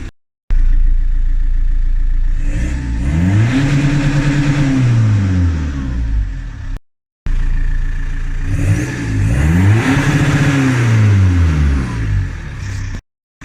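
A time attack project car running on low boost, its engine revving twice in long rising-and-falling sweeps, loud and close, each rev cutting off to brief silence.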